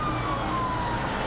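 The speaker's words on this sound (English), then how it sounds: "The sirens could be heard all day." A faint ambulance siren wails steadily in the distance over a low traffic rumble during a windstorm, with no voices present.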